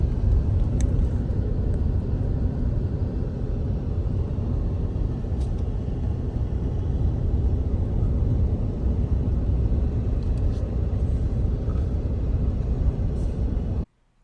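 Interior of a car driving along Dunes Drive Road at White Sands, a steady low rumble of engine and tires that holds for the whole stretch before cutting off abruptly, with no voices.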